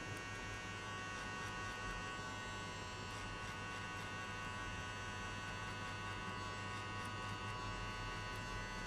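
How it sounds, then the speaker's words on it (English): Electric hair clipper with a zero gap buzzing steadily at close range while cutting a high fade, a constant electric hum with no talking over it. "we're gonna start from the corner, zero gap, clipper"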